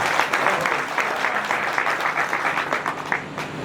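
An audience at an outdoor kavi sammelan poetry recital in Sabalgarh claps together in a loud, close burst of applause, the claps forming a fairly rhythmic patter that stays strong throughout.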